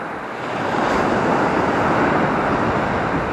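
Ocean surf rolling onto a sandy beach along the Great Ocean Road, a steady, loud wash of breaking waves with wind noise on the microphone and no talking.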